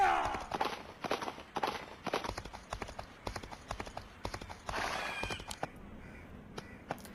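Video-game horse hooves clip-clopping at a steady riding pace, crisp and close, with crow caws and cawing bursts layered over the rhythmic hoofbeats.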